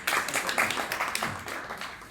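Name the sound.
audience applause at event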